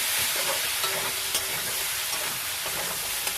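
Pigeon meat curry with meat masala and cumin powder stirred in a pan, a steady frying sizzle and hiss with faint scraping of the spoon, close and continuous, no talking.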